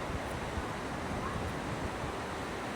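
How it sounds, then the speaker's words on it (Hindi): Heavy rain pours in the dark as a loud, dense, unbroken hiss that fills the whole stretch without pause. "पानी बहुत ज़्यादा पड़ रहा है गाइज"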